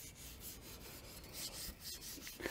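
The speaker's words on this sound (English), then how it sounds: "with the friction on the wood, it's going to be hot, and that's because we're actually going to force that slurry of boiled linseed oil and sawdust into the pores" A hand rubs a slurry of boiled linseed oil and sawdust into the wooden stock of a 1903A3 rifle, giving steady close friction strokes in short repeated passes.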